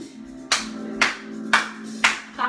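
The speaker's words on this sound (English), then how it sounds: "Clap on to the beat of the music." Single pair of hands clapping to the beat of music during a children's disco dance class, five sharp evenly spaced claps about half a second apart over a faint musical drone.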